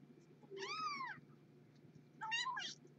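Newborn kittens in a litter of five meow while being fed, two thin high-pitched cries separated by a short pause, close and fairly quiet over a low steady background hum.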